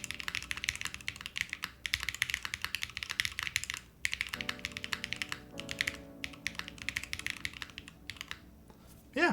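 Fingers type on a mechanical keyboard with a medium-firm feel, producing rapid, close clacks in quick runs broken by brief pauses, crisp and continuous, with no voices.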